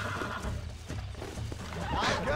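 A horse neighs and whinnies in Red Dead Redemption, set against steady game ambience and hoof clip-clop. The call rises near the end and comes through fairly clearly at moderate loudness.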